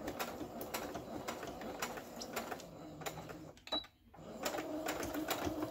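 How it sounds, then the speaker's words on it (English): A sewing machine running a straight stitch while closing up a lapbook pocket, with a steady buzzing hum and needle patter that cuts off briefly near the end before resuming. "we're just going to sew everything shut. And we're just going to do it with a straight stitch again"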